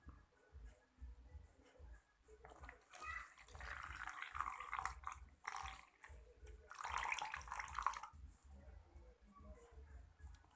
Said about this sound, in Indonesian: Sekarang masukkan air ke dalam